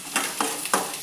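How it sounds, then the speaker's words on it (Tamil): Onion, tomato, curry leaves and green chili fry in a pan under a soft sizzle, broken by three short scraping stirs of a spatula. "தக்காளி, கருவேப்பிலை, பச்சை மிளகாய் சேர்த்து நல்லா வறுத்துக்கோங்க"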